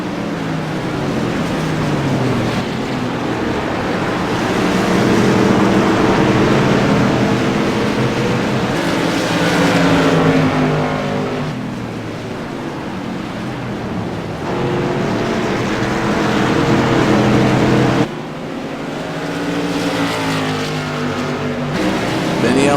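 Tour Modified race cars lap Martinsville Speedway in a loud, continuous engine roar, with rising and falling pitch as the cars pass and run through the turns.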